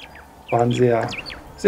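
A brief bird call with short chirps and a longer tonal note in the middle, fairly close and clear against faint background noise.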